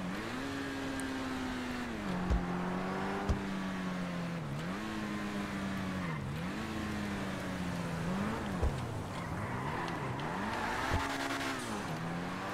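A Ford F-450 tow truck in the GTA 5 video game, towing a 2021 Chevy Camaro, its engine droning steadily and rising and dipping in pitch as it shifts through gears, with a few sharp knocks.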